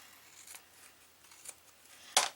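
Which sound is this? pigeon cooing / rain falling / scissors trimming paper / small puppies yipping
scissors trimming paper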